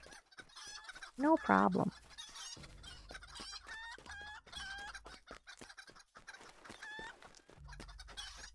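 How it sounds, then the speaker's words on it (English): A small flock of chickens clucking outdoors, with one loud burst of squawking or crowing early on, then repeated soft clucks through the rest under a brief spoken phrase. "Sound like a bunch of chickens."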